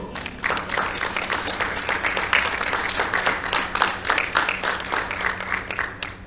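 Congregation in a church service applauding together, a steady dense patter of many hands clapping throughout, with a low steady hum beneath and no speech over it.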